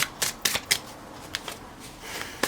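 A deck of tarot cards shuffled by hand, sharp riffling bursts in quick clusters, then softer scattered flicks, close and crisp with no voices.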